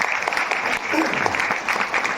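Audience applause at a religious discourse gathering, steady loud clapping from a crowd filling the whole moment, with a voice speaking over it.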